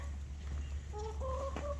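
Soft clucking from chickens over a steady low hum, a few short calls near the end.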